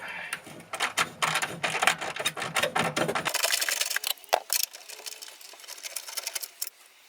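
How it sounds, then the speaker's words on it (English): Close-up ratcheting and clicking of a wrench backing out a bolt on the 2013 Toyota Prius auxiliary battery, rapid mechanical chatter that stops abruptly, followed by scattered metallic clicks and handling noises. "I can go ahead and take this bolt out."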